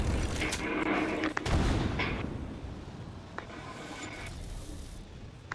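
Frag grenade blast in the online shooter Apex Legends, with a sharp boom near the start and scattered gunfire cracks and rumbling battle noise continuing around it.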